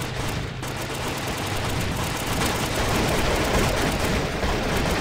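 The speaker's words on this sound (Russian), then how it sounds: "Стреляет." Continuous dense bursts of gunfire, loud and sustained, during a November clearing operation of a wooded area with structures, with rapid overlapping shots filling the whole stretch.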